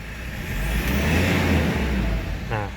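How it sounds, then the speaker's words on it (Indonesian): A Mitsubishi Pajero Sport Dakar 4x2 diesel engine revved from idle: a close, throaty roar that swells, holds briefly and eases back down, with a faint chime near the end. "Dan bunyinya mesinnya kayak begini kalau digas."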